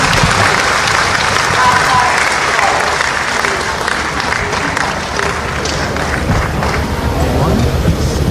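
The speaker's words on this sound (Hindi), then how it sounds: "बहुत जोरदार तालियों से माननीय प्रधानमंत्री" A huge crowd at an Indian government farmers' event applauds the Prime Minister, a loud and roaring wall of clapping mixed with crowd noise and some wind buffeting on the microphone, continuous throughout.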